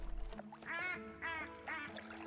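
A lone wild duck quacking in a series of three nasal, harmonic calls at moderate distance, with a faint low rumble beneath and no talking.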